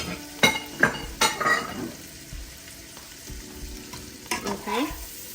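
Shrimp fry in a pan with a steady sizzle, broken by sharp clinks and scrapes of a utensil stirring against the pan close by.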